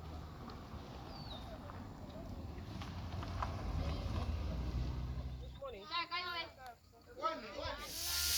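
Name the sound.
pressure cooker hissing while cooking stew peas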